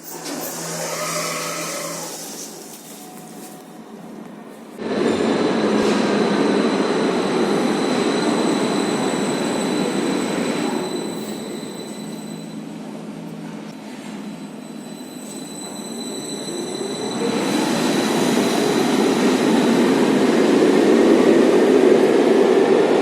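A tram rolls through Krakow, its rumbling wheels and motor hum swelling loudly and holding steady with a brief dip midway, after a quieter opening moment.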